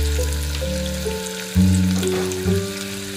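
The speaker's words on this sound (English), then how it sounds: "Once this starts spluttering, add the onions." Onions and whole spices such as crushed mace sizzling in hot oil in a pan, a steady loud close fry with brief surges as ingredients hit the oil, no voices over it.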